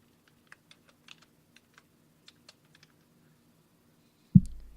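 Sparse, light keystrokes on a computer keyboard, a dozen or so quiet taps at an irregular pace, ending in a single louder thump.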